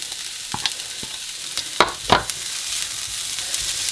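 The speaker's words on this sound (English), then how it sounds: "We're just going to fry that off." Egg fried rice fries in a pan with a steady sizzle, broken by several sharp scraping clicks as the rice is stirred and tossed.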